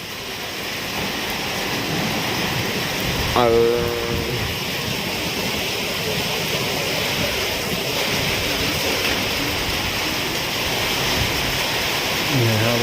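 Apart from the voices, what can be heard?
heavy rain in storm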